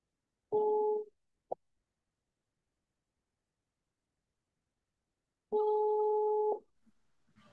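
Two telephone ringing tones sound, a short buzzing burst followed after a long pause by a longer one, with silence between.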